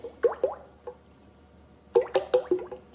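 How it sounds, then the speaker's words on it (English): Cream poured into a bowl for homemade butter, heard as a few soft, wet splashes and plops at the start and again near the end, with a quiet pause between and no talking. "Let's go ahead and pour this cream in."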